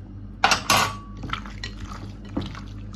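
Cooking wine is splashed onto chicken pieces pan-frying for a home-style red-braised dish. Two quick bursts of sizzling liquid are followed by fainter clinks and spattering in the pan, with no talking.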